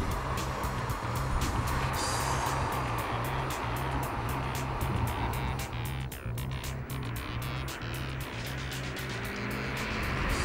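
A Lotus Elise sports car drives on a country lane, its engine a steady, fairly loud drone that holds throughout with a rhythmic low pulse and wind and road rush over it.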